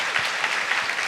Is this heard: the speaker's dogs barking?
no